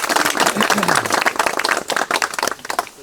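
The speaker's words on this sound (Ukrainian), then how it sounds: "давайте аплодуємо кожен сам собі" A crowd claps and applauds steadily, close and lively, with some voices mixed in, at an amateur spinning fishing tournament on the Oril River near Dnipro.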